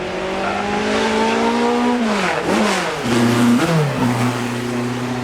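Sauber C14 racing car at a festival of speed, its engine revving loud and close, with pitch sweeping down on the lift at about 2.5 seconds before climbing again, then dropping and settling into a steady roar.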